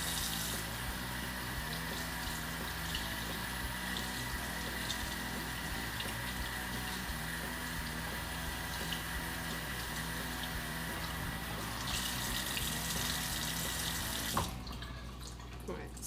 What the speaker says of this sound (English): I am going to simply rinse the wig in cold water until it runs clear